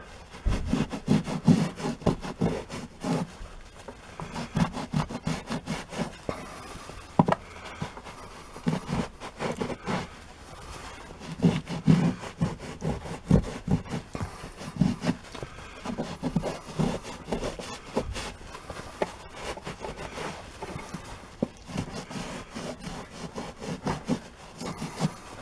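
A microfiber towel is scrubbed hard across carpet to lift salt stains, making a steady, close rasping rub in quick repeated strokes that run throughout without pause.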